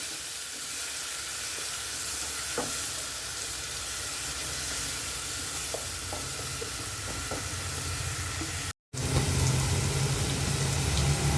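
Crushed ginger, garlic, green chili and shallots sautéing in a pan, a steady even sizzling hiss with a few faint taps, briefly cutting out then resuming slightly louder, with no voices.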